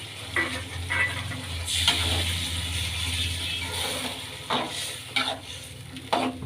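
Tomato and byadgi chilli paste with added water bubbles and hisses in a pan while being stirred, a steady close simmer broken by a few scraping knocks, without speech.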